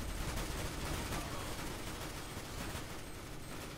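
Gunfire in the Counter-Strike video game, a dense, continuous burst of rapid shots and sprays filling the whole moment at steady loudness with no pause, with no voices over it.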